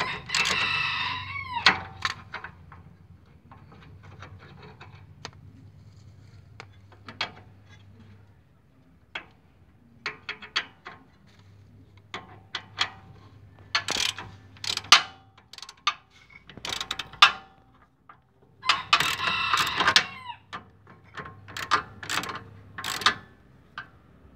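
A ratchet works loose the ball joint bolt on a car's front suspension, giving repeated bursts of quick metallic clicking with pauses between strokes, up close under a steady low hum.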